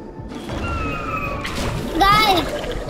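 Water splashes in the PS5 video game Astro's Playroom, a short sloshing splash among bright game effects and whooshes, with a young voice talking over it.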